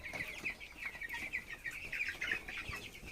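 A flock of about 303 broiler chickens, around day 18, fills a brooding house with soft, continuous cheeping and clucking, a dense, even chatter at moderate volume.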